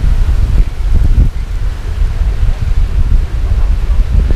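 Strong wind gusting across the Mae Klong River in Thailand, a steady, loud rumbling roar buffeting close to the microphone with no pauses.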